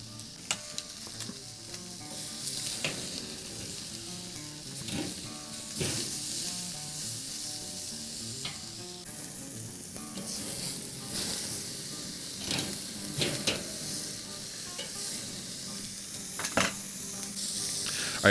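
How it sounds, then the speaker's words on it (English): Burgers searing directly over hot coals on a kettle grill, giving a continuous crackling sizzle with bursts of popping spatter and occasional louder flare-ups over the whole stretch, close and without talk. "then I'm gonna let them sear for about 45 seconds on each side twice"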